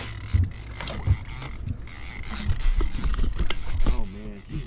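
Fishing reel creaking and ratcheting as line runs out under a pulling spoonbill during snagging near Warsaw, Missouri; irregular mechanical clicks and creaks with low thumps, loud and close.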